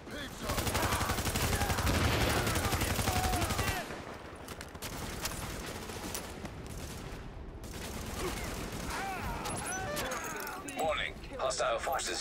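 Sustained gunfire and explosions in the video game The Division 2, loud and dense for several seconds, then thinner scattered shots and mechanical clatter while a radio-style voice talks over it.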